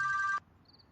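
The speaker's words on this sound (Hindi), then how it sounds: "लो, उसका फोन आ गया।" A phone rings with a short electronic tone that cuts off abruptly, followed by a faint, thin high beep in near silence indoors.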